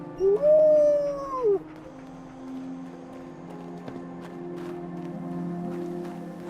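A dog in the game Fallout 4 lets out one rising, drawn-out whimpering howl close by, then a quiet low hum of game ambience continues.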